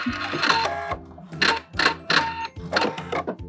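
Sewing machine backstitching lace hem tape onto a garment hem, sounding as quick bursts of mechanical stitching rattle with brief pauses and reversals between them, close and clear.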